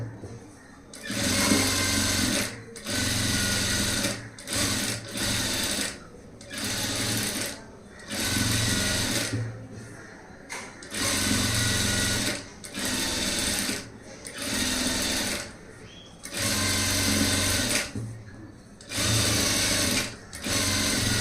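A sewing machine stitches a saree blouse in repeated loud runs of rapid whirring, each lasting a few seconds and separated by short pauses, with no talk over it.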